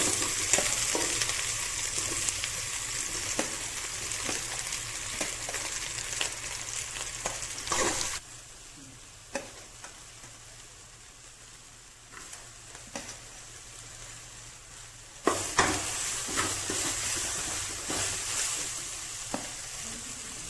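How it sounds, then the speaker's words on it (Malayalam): Chopped onions sizzle in hot coconut oil, a close, steady frying hiss that drops quieter for several seconds mid-way and then rises again to a full sizzle. "അതിനുശേഷം നമുക്കതിലേക്ക് അരിഞ്ഞു വെച്ചിരിക്കുന്ന ഉള്ളി ഇട്ട് കൊടുക്കാം കേട്ടോ."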